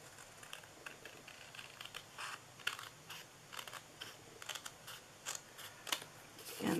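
Scissors cutting straight lines close to the edge of a paper card frame for a Christmas window card: a series of quiet, close, crisp snips at an irregular rhythm, with no talk.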